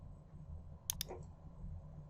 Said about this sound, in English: being careful with your clicking is really helpful when you're doing all this little clicking